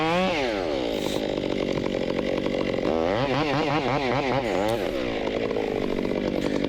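A Stihl 661 chainsaw with a 30-inch bar felling a tree runs loud and continuous, its engine pitch sweeping up and down as it revs and bogs through the cut.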